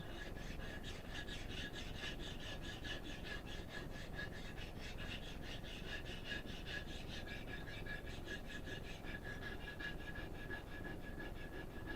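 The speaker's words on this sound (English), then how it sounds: "refining that bevel with a coarse stone, 325" A kitchen knife is stroked over a coarse 325-grit sharpening stone, making a faint, close, rhythmic rasping that repeats evenly back and forth throughout.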